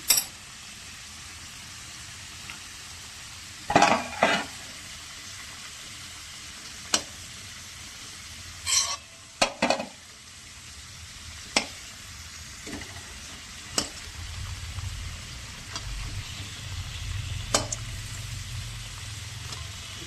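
Potatoes are lifted one by one out of hot frying oil for mutton chops, with a steady sizzle and scattered sharp clinks and scrapes of a utensil against the pan, ending in a louder, fuller bubbling.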